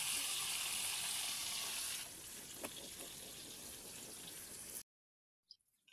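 Oil crackles and sizzles in a pan, a steady bright hiss that drops in level partway through, then cuts to near silence.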